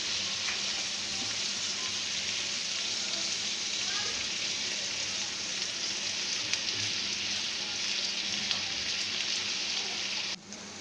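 Steady, dense sizzling of onions frying in a pan, a continuous crackling hiss that runs evenly throughout with no talking.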